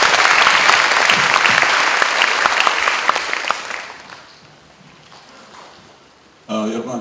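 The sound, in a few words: audience applause welcoming a speaker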